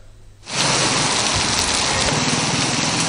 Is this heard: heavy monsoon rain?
yes